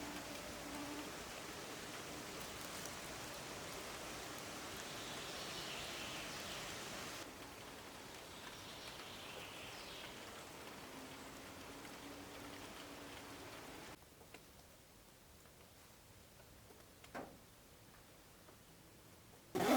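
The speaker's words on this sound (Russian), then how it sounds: "Все-таки дождик начал опять моросить." Light drizzle falls outdoors in a Ural village, a soft, steady hiss of fine rain that grows quieter partway through and thins to near silence, with a couple of faint drips near the end.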